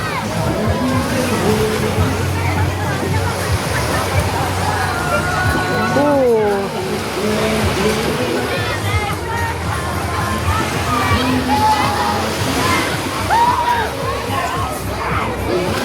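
People bathing and splashing in water at an overnight spot, with constant sloshing and playful shouts over a dense crowd babble, children's cries rising now and then; voices talk throughout.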